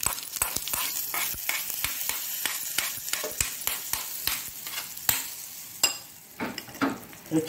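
Curry leaves and mustard seeds go into hot oil for a tempering, giving a close, steady sizzle dotted with sharp pops and crackles that thin out toward the end.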